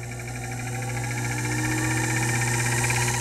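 A milling machine spindle runs steadily at increased RPM, giving a continuous, fairly loud mechanical whir and hum with no voices over it.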